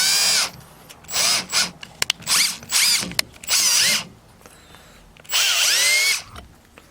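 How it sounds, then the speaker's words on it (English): A power drill bores into a plastic shower head in several short, loud bursts separated by brief pauses and small clicks, close up with no speech. "So I'm going to try to drill that out, even if I can get it to be a 1/4 inch"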